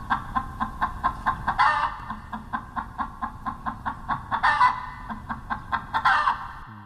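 A chicken clucks in a quick, regular series of short clucks, close and clear, broken by a few longer, louder squawking calls.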